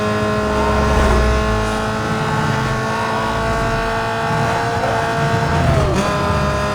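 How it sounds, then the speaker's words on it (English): A car engine in Need for Speed Most Wanted revs up as the RPM climbs, its pitch rising and falling in a loud, continuous drone with a brief shift-like dip near the end. "show the change in the pitch of the engine sound as the rotations per minute increase"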